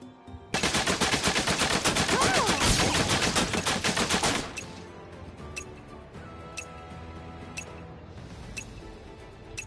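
Rapid bursts of gunfire from a Final Fantasy VII Rebirth shooting minigame, a loud dense barrage lasting about four seconds, then sparse single shots and faint clicks against quieter game background.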